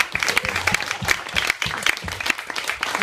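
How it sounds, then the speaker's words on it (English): An audience at Rough Trade East applauds after an in-store talk, lively close clapping with a few louder individual claps throughout. "Have a round of applause,"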